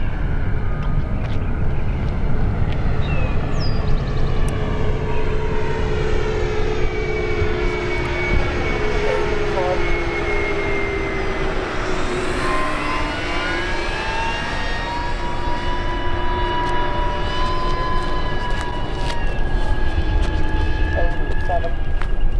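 Jet engines of a large radio-controlled Boeing 777X model whine steadily through a test flight, with rising and falling turbine tones as it passes, loud and continuous, while people talk over it.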